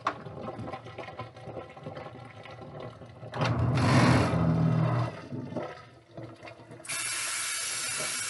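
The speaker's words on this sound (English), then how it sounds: "So now, I let that dirty water out" Dirty water draining from a bathroom sink after washing crochet hair, a rushing, gurgling flow that swells loudly midway and then settles into a steady hiss.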